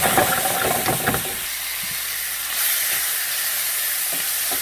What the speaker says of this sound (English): The idea is to fry it, not to stew it.